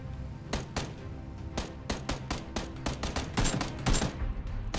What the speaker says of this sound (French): Fais gaffe, il te tire dessus.